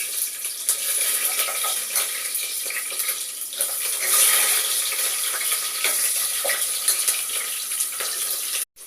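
Cloves and green chillies sizzle and crackle steadily in hot oil for a soya chunks biryani. The frying is constant and close, with brief stirring noises and a sharp clink at the very end.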